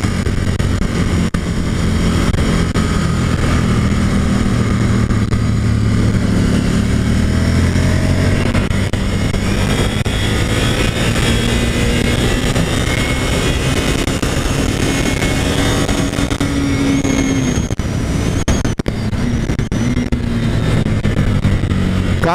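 A motorcycle accelerating hard around the Interlagos race track during a riding course, its engine a loud, sustained roar with rising and shifting pitch that stays dense and close throughout.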